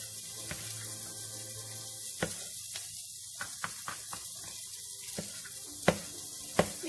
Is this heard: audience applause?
no